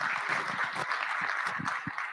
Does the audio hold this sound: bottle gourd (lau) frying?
no